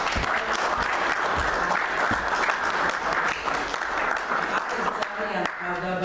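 Audience applause at a book presentation, a full, continuous burst of many hands clapping that holds steady for several seconds, fairly loud and close.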